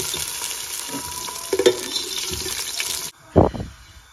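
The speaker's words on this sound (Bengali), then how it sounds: "ঘি দিয়ে এখন আমরা আমাদের কারট এবং কিসমিসগুলোকে আমরা আগে ভেজে নেব।" Carrots and raisins frying in ghee for Afghan Kabuli polau, with a steady sizzle and stirring clatter that cut off abruptly near the end, followed by a few short utensil knocks.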